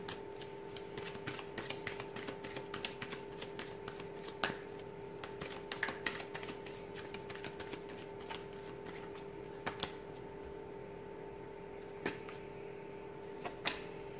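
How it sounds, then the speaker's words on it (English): Tarot cards shuffled repeatedly in quick riffling bursts and soft flicks, close and fairly quiet, over a faint steady hum with no voices. "I'm going to go ahead and give the cards a shuffle here"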